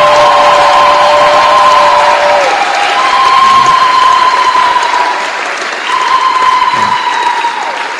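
Sustained applause from an audience at a China–DRC forum, dense clapping filling the room for several seconds and easing slightly near the end, with a faint tonal hum running underneath.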